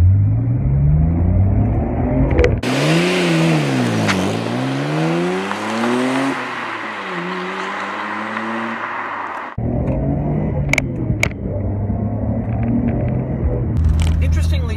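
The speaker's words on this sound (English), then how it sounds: "For a 25-year-old car, acceleration is surprisingly strong." A 25-year-old Japanese Nissan Skyline GT-R engine pulls hard under acceleration, its rising harmonics sweeping up through two gear changes in a loud, close interior drone, with a steady lower engine rumble before and after.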